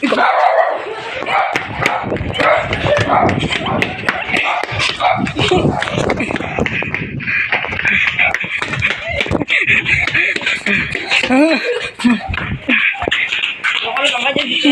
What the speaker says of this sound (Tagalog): Bakit yung aso naman dyan?